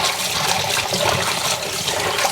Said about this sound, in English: what I like to do is wash it really well.